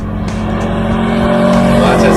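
A Subaru WRX STI's engine rumbles loudly and close, with a steady low drone that rises slightly toward the end, as people talk over it.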